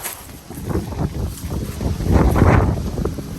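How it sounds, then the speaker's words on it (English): Wind gusts buffet the microphone in a low, rumbling rush that swells louder midway, with no talking. "You can hear the wind in the background."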